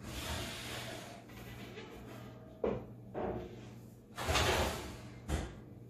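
A kitchen proving drawer slides open and shut for a dough bowl, with a rolling slide, a soft knock and a couple of shorter bumps and thuds, close and moderately loud with no speech.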